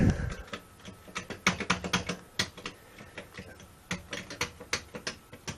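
Keys clatter on a Commodore 64G keyboard, struck in irregular bursts of quick clicks with short pauses between them, close and fairly quiet with no talking.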